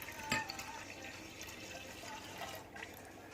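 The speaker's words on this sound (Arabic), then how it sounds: "غادي نديرو الماء ب 500 مليلتر" Water, 500 ml, poured into a dough mix for matlouh bread: a faint steady liquid pour with a soft splash at the start, fairly quiet and heard alone.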